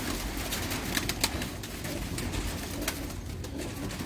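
Pigeons coo in soft, repeated throaty calls at a red-eyed pigeon loft in Lahore, with overlapping birds near and farther off against a busy outdoor background.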